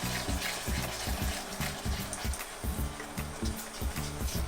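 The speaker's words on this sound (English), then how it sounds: "So as I'm stirring, pour in slowly. There's the bubbly sound." Salted caramel bubbles and sizzles in a pan as cream is slowly poured in and stirred, a steady close frothy hiss with rhythmic low scraping pulses from the stirring, heard alone.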